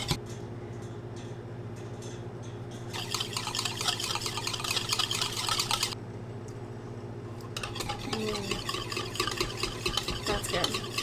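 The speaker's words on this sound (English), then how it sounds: "Now I'm just going to mix these together first." Vinegar dressing ingredients mixed together in a home kitchen, with bursts of utensil clinking and stirring against a dish over a steady background hum, separated by a quieter pause.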